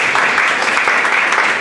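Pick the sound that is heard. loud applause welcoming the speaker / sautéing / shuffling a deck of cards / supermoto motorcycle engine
loud applause welcoming the speaker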